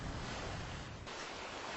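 Small waves wash in Nissum Bredning, a fjord near the North Sea used as a wave energy test site, giving a steady faint broadband surf with wind noise and a slight drop after one second.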